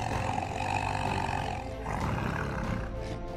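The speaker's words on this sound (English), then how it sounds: "Without heeding the warning, the lions came to bite the lying lion." Lions fighting and biting one another in the wild, letting out a continuous deep roar that holds steady and loud, then shifts to rougher growling. There are no voices.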